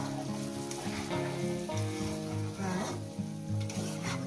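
Cauliflower and potatoes sizzle steadily in a pan as they are fried and then simmered in their own moisture with poppy-seed paste water. The hiss is close and continuous, with occasional stirring and no speech.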